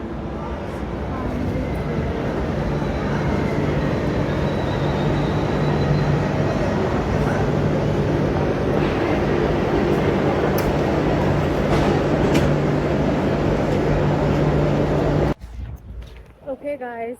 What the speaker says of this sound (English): that's the train that goes to the beach that I want to go to